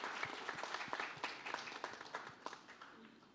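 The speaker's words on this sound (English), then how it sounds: "A round of applause for these girls, please." Scattered audience applause and clapping after a designer showcase, a moderate patter of individual claps at medium distance, steady for a few seconds without voices.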